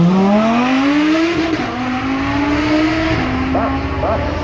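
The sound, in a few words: Lamborghini V12 supercar accelerating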